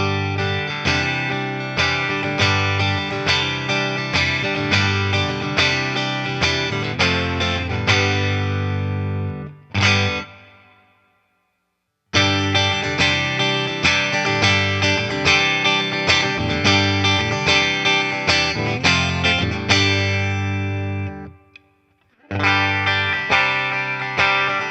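Fender Telecaster electric guitar with clean tone at full volume rings through two passages of picked chords, each cut to silence and then resuming, loud and close with no talking.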